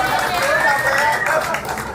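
A loud, dense wash of audience clapping and cheering at a son's emotional retirement tribute to his father, steady throughout with a murmur of crowd voices mixed in.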